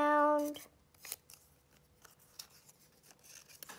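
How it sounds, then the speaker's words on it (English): Scissors slice a strip of paper in a few crisp, separate snips close by, starting with a short tonal squeak and followed by faint rustling and handling noises in a quiet room. "I'm just going to cut a strip."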